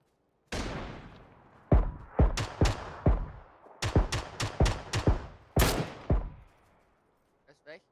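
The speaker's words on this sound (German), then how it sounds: "Aber da waren noch Schüsse. Noch jemand hat geschossen." Gunfire rings out in an online shooter game: a series of sharp, loud shots in quick bursts with short pauses between, each followed by a brief ringing decay, with faint clicks at the end.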